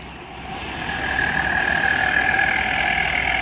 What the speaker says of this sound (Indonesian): Wah, knalpotnya jos nih.